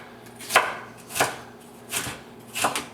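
A knife chopping green pepper into pieces on a board, four crisp evenly spaced cuts about every two-thirds of a second, close and clear with no voices.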